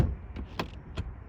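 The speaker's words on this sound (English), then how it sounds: "how can I forget the soft closed doors? Just watch this." A BMW F13 6 Series soft-close door pulls itself shut, a short quiet sequence of faint mechanical whirring and a few soft clicks close by, with no voices.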